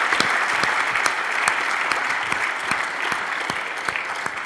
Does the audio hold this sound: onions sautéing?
no